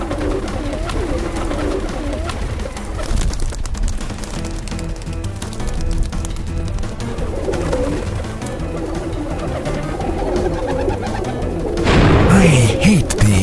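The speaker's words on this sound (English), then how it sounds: "I hate these pigeons." Pigeons coo in an animated cartoon scene, their soft repeated calls mixed with music and other effects that rise louder near the end.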